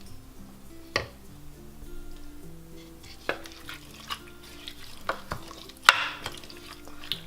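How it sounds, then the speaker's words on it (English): Spoon stirring seasonings into a chicken taco mixture in a crockpot, giving irregular scraping clicks and knocks against the pot, with a few sharper taps, moderately close and fairly quiet, with no talking. "I'm just stirring in all the seasonings and the mixture that I made"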